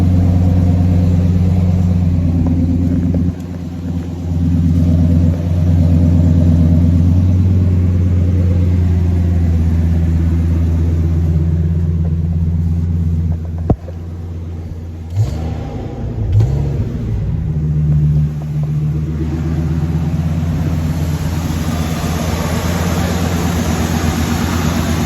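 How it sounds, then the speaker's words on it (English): A car with an MBRS exhaust idles steadily after a cold start, a deep throaty drone that holds its pitch, with a brief dip and a small blip of revs partway through. "it does have MBRS exhaust, so it has a nice throaty sound"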